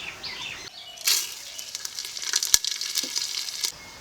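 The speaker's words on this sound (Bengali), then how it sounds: "এই তেলে দিয়ে দেব একটা তেজপাতা গোটা গরম মশলা ও গোটা জিরে" Bay leaf, whole garam masala and cumin frying in oil for chicken dum biryani: a sudden sizzle bursts up after a quiet start, crackling with a sharp tap or two, then cuts off near the end.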